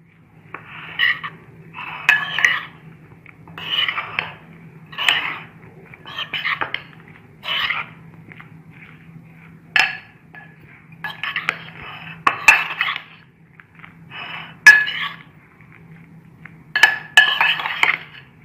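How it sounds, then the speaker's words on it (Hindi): Egg and bread mixture stirred in a bowl, a spoon clinking and scraping in repeated bursts of a second or two with short pauses between, close and clear over a faint steady hum. "अब हम इसको अच्छी तरह से इसमें मिक्सचर बना लेंगे अंडे का और ब्रेड का"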